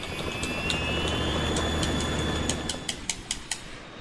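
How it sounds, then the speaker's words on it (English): Harrier jet in a video game, a steady roaring engine drone with a high whine, followed near the end by a few sharp clicking hits, no voices. "We're in trouble. It's the Harrier."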